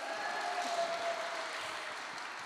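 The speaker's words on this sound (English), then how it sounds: "Round of applause for Helen." A small group claps for Helen during a family farewell gathering, a soft, continuous patter of applause at moderate distance, steady for a couple of seconds.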